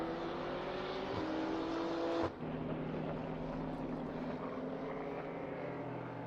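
An FIA CEZ endurance prototype race car runs at Slovakia Ring, its engine a steady mid-distance drone that shifts pitch partway through with a brief drop in loudness, then carries on at a lower, even tone.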